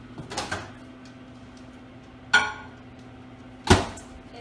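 Three separate sharp clacks, like a microwave door latch releasing and the door swinging open, over a faint steady hum.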